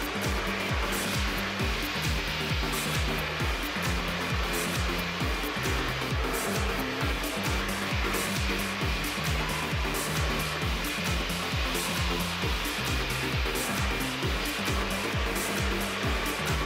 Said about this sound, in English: I blow dry while pulling down the hair